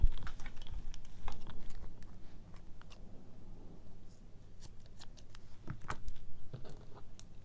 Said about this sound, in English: we're going to cut the yarn here.